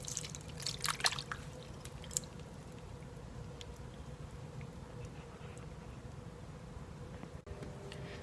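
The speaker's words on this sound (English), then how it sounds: "I'm going to add this along with all the liquid into the pork" A 10-ounce jar of mushroom pieces and stems is tipped with all its liquid into pork, giving a short burst of splashing drips near the start before settling into a steady low background hum.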